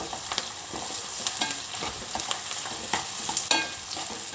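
Chicken pieces deep frying in hot oil for a clay-pot dum chicken biryani, a steady close sizzle with scattered crackles and pops and a few sharper spatters, no talking.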